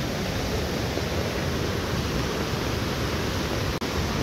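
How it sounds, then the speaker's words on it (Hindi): A loud, steady roar of rushing water fills the clip without pause, a stream in Azad Kashmir swollen by a rainstorm pouring close by, with no voices. "देखिए पानी और तेज़ हो गया है, आवाज़ भी इसकी बहुत ऊंची हो गई है नाले की।"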